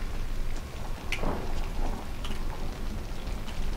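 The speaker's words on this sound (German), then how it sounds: "Draußen im Regen." Steady outdoor rain hisses in the video game Outlast, a constant dense wash with a couple of faint sharper ticks, no talk over it.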